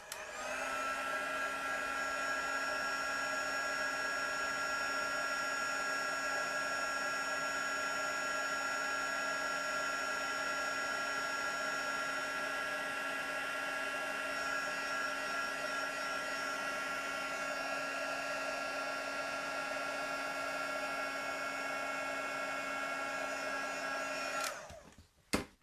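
A heat tool blows steadily for about 24 seconds while warming embossing powder on a handmade Christmas card, a loud, constant whirring hum that cuts off abruptly at the end.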